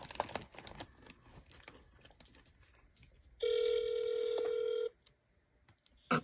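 A phone call to a supposedly haunted number: soft handling rustles and faint clicks, then a loud steady electronic line tone held for about a second and a half before cutting off, followed by a brief clunk.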